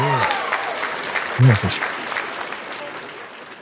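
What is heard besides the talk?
audience applause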